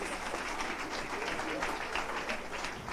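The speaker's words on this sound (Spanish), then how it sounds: "que van a recibir con fuertes ofrendas de palmas." A church congregation gives a soloist a round of applause, heard as a faint, even patter of many hands clapping throughout, with distant murmuring underneath.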